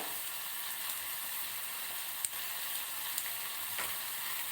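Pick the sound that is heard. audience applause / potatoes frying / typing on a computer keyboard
potatoes frying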